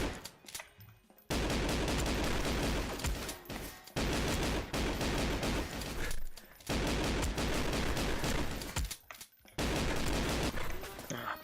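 Sustained bursts of automatic gunfire from the first-person shooter Goldeneye Source: four long, loud volleys separated by brief gaps of quiet.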